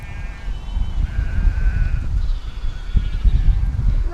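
Ewes and their lambs, including a mother with twins, bleat repeatedly out on pasture, with several overlapping calls close by over steady outdoor background noise.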